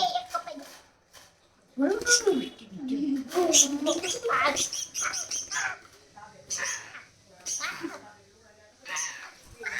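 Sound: parrot calls

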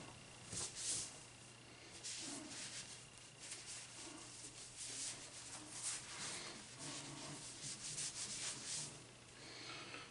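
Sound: washing and rubbing candlepin bowling balls

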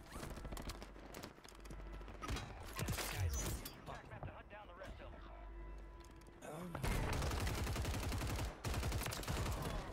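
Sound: gunfire in a video game

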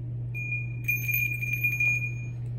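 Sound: meditation chime being sounded

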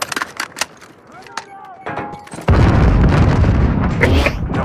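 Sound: stun grenade exploding in video game

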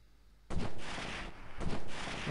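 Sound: enemy gunfire in the video game Delta Force

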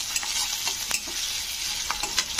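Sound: frying chopped onions in a pan

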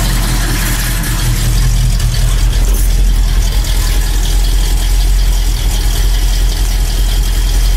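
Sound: motor running

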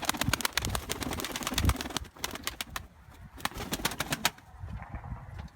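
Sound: female smoke-coloured pigeon cooing

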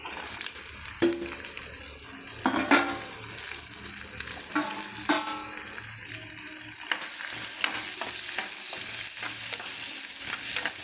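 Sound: onion and green chili frying in pan

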